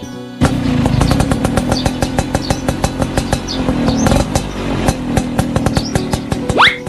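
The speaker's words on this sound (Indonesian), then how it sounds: "kagak bakal mau gua naik motor butut begini" An old, beat-up motorbike being ridden, its engine close and loud with a rapid rattling putter and a few uneven surges, and faint chirps above it.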